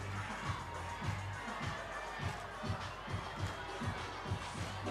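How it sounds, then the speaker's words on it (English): Large crowd at a rugby union championship quarter-final cheers and murmurs steadily, a broad roar with rhythmic low thumps like chanting or drumming running throughout. "this great crowd settling in for a wonderful afternoon of rugby"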